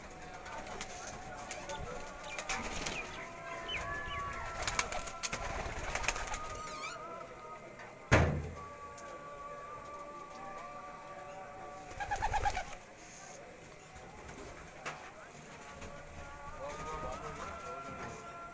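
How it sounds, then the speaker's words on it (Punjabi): Teddy pigeons coo softly among fluttering and shuffling, with people talking intermittently and a sharp bang partway through. "ਇਹ ਜੀ ਚੌਧਰੀ ਸ਼ਾਮ ਸਾਹਿਬ ਹੋਰਾਂ ਦੇ ਘਰ ਦੇ ਟੈਡੀ ਕਬੂਤਰ ਨੇ ਜੀ।"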